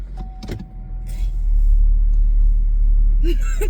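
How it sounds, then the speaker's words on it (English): A car starts up for a short ride: after a few clicks and a brief voice, the engine catches and settles into a steady low rumble close by, with a short voice again near the end. "I hope if I turn the car on."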